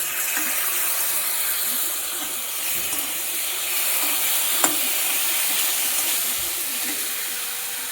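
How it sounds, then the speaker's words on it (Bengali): Ground spice paste hitting a hot pan while cooking tengra fish with ash gourd, a steady bright hiss of sizzling frying with one small pop partway through, no talk. "এবার আমি এখানে বাটা মশলাটা দিয়ে দেবো।"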